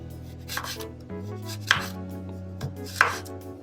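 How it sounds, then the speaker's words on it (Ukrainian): A knife chops carrot into thin strips on a cutting board, a handful of crisp separate knocks at irregular spacing over a faint steady background hum, close and clear, with no talking. "Моркву нарізали соломкою."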